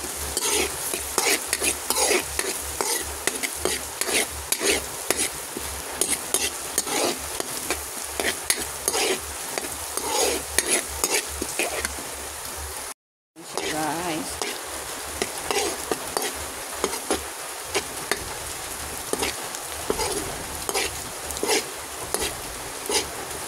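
Ginger, garlic, onion and green chili sauté in a hot pan with a dense, continuous sizzle and frequent stirring scrapes close up, broken by a brief pause midway, with no voices.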